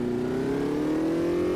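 A race car engine in Automobilista 2 revs under a feathered throttle while cornering, a steady buzzing drone with a slowly rising pitch, close and continuous with no talk.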